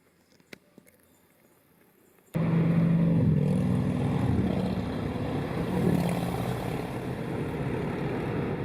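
Motorcycles ride along the Cherohala Skyway in the Nantahala National Forest. Near-silence with a faint click gives way abruptly to a loud, close engine roar that rumbles on steadily, with no one speaking.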